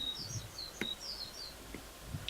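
Small birds outside a window give faint, high chirping calls in short scattered bursts over a low room hum, with a couple of soft bumps nearby.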